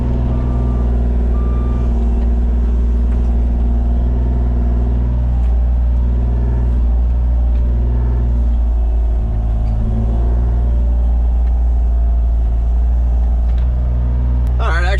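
Mini excavator climbing steep trailer ramps, a loud steady diesel engine drone with tonal hum and strained rumble throughout, a brief metallic clank near the end.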